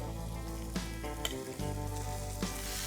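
Masala sizzles with golden fried onions in a pan for crab sukha, a close, continuous frying hiss broken by a few soft clinks and scrapes of stirring.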